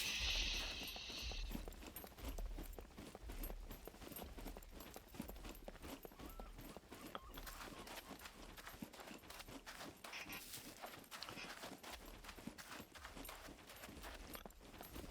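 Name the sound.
mechs stomping in video game SCUM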